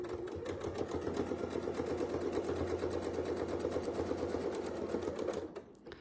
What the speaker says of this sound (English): So when you're sewing these little arcs, try not to stop in the middle of any one.